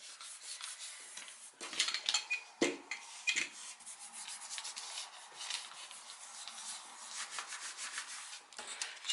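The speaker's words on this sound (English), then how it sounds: "Give it a good rub down." Paper is rubbed down by hand onto a gel printing plate, giving close, irregular scuffing and swishing strokes with a few soft knocks, moderately quiet and without talk.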